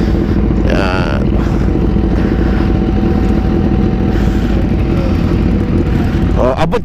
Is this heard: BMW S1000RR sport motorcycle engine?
yes